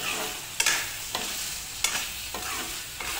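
Ginger-garlic paste and cumin fry in a pan for a pork and mustard-greens dish, with a steady close sizzle. About five sharp spatula scrapes stir through it at roughly even intervals.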